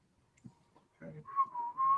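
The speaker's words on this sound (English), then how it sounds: "Oh, that's you whistling." A person whistles indoors, a short faint wavering tune that starts after a moment of quiet and a few soft bumps, close by.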